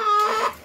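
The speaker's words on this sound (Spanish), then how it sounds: "las gallinas ya nos están esperando aquí" Domestic criollo hens cluck close by in a short burst, a few quick, throaty clucks with no talking.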